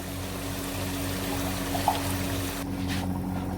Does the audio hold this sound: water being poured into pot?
yes